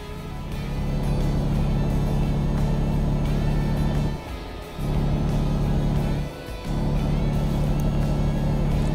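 A heavy truck engine drones steadily in Euro Truck Simulator 2, a loud low rumble that briefly dips twice as the driver shifts, then resumes at full throttle.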